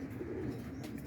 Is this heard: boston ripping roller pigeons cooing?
yes